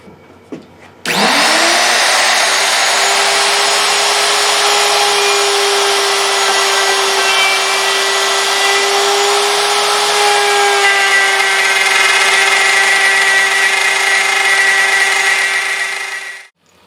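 A router fitted with a plain straight bit, not a spiral bit, cuts through 1/2 inch wood in a steady, loud, continuous whine that lasts about fifteen seconds after it starts up, then cuts off sharply.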